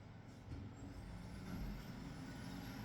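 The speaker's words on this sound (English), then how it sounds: "sorry about the utility truck" A utility truck rumbles past outside, a steady low engine drone with a faint hiss of air brakes, moderately near and continuous with no voices.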